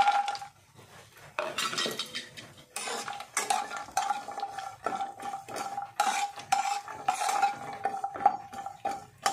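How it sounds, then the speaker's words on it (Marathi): Almonds are stirred in hot ghee in a pan, bursts of scraping and metallic clinks from a spoon against the pan over a light sizzle, close and rhythmic, repeating in short strokes without any talk. "आता त्या तुपामध्ये हे बदाम घालते मी।"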